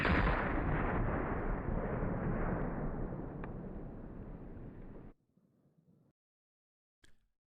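A rifle unleashes a long, loud, continuous burst of rapid fire lasting about five seconds, then cuts off abruptly into a faint fading tail and one brief sharp pop afterward.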